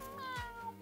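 A person imitates a cat's meow with a single short, soft mew, close and quiet.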